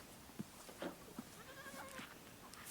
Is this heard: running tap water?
no